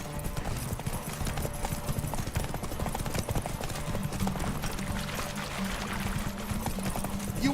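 Hooves of a horse gallop in a rapid, steady clip-clop in the video game The Witcher 3, over a dense wash of game ambience.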